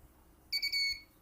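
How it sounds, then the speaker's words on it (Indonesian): A short electronic buzzer beep from an IoT door lock as the door locks, high and tonal, sounds once for about half a second against a quiet background. "buzzer berbunyi kembali dan LED-nya mati"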